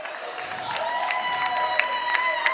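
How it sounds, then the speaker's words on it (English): A gym crowd claps and cheers for its boys' high school basketball team at South Central High School against Odin. A steady, moderately distant wash of noise, with sharp squeaks and whistle-like tones poking through. "And they're cheering their squad."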